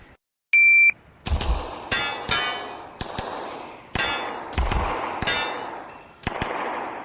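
A practical shooting stage fired at a target array: a shot timer beep, then a fast string of loud gunshots with ringing steel-like clangs, evenly spaced and close by, with no talking.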